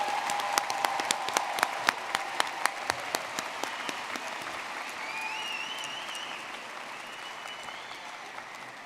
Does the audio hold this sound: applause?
yes